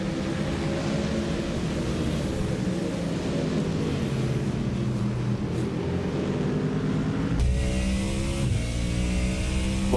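A Ford Mustang GT3 racing car in iRacing during a six-hour esports endurance race at Barcelona, its engine droning steadily with layered harmonics, then an abrupt gear change near the end before it pulls on again.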